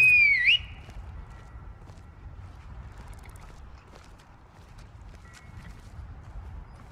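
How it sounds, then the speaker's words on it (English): A single short rising-and-falling whistle for a horse in the video game Skyrim at the start, then quiet low ambient rumble with faint ticks for the rest of the clip. "So I should be able to whistle for my horse."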